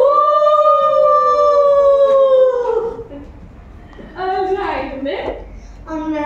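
Children at a kindergarten graduation event imitate a wolf, holding one long, loud, falling howl for close to three seconds. A shorter, wavering howl follows after a brief quieter gap.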